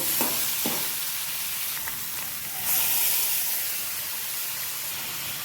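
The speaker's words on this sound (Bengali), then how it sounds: "এখন আমি সেদ্ধ করা সিমের বিচিগুলি দিয়ে দেবো" Boiled flat bean seeds are added to bitter gourd frying in a pan, giving a couple of soft plopping thuds followed by a steady hissing sizzle that swells as steam rises.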